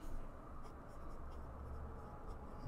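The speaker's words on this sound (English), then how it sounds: "Our pen is the Twisby Go with a medium nib. And because it is Cosmo Air Light paper" Fountain pen, a Twisby Go with a medium nib, scratching steadily across Cosmo Air Light paper in a quiet, continuous soft scrape with faint strokes throughout.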